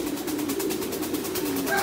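Pigeons in a breeding loft give a steady, continuous low cooing that runs close by throughout, with no talk over it.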